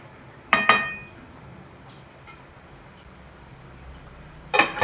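A metal lid is set onto a pot of pepper chicken gravy cooking on a stove, giving a sharp close clink at the start and another rattling clink a few seconds later, with faint kitchen hiss between.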